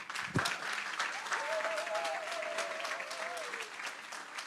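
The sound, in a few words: conference audience applause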